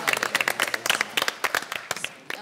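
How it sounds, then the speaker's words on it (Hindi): Loud clapping bursts from an audience at a comedy show launch event, sharp, distinct hand claps coming in quick irregular clusters, close and punchy rather than a smooth wash. "जोर से ताली"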